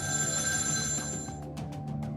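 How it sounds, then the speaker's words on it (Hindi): A telephone rings with a steady electronic bell tone, then breaks into short pulsing rings near the end; no voices. "सुबह सुबह अहमदाबाद में रहने वाले ओकी कृष्णा नाम के एक व्यक्ति के फोन की घंटी बजती है।"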